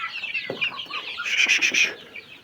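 Young quail chicks being shown in a brooder chirp in a dense cluster of high, thin peeps that swell louder toward the middle, with no voices.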